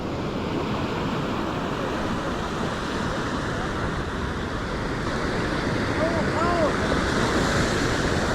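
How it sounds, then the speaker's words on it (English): Ocean surf surges against a rocky shore in a steady, loud wash, with wind buffeting the microphone and faint voices partly buried underneath. "I'm gonna wait for a big wave, then I'm gonna go right after the big wave"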